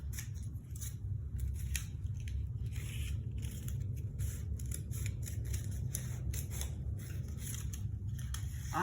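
Scissors snip through paper circles in a steady run of close, crisp cuts, each blade closing with a dry crunch over a low background hum.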